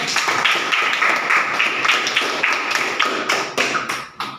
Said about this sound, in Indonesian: Tepuk tangan, Bapak